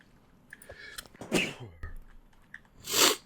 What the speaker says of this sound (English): Had to sneeze there.